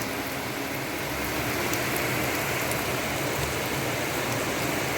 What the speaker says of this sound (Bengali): আর কতটা পরিমাণে বৃষ্টি হচ্ছে দেখো